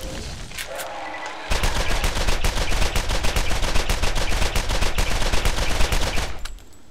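Rapid automatic gunfire from a shooter in the Borderlands video game, a long continuous burst of closely spaced loud shots that starts abruptly, then cuts off, leaving a quieter background.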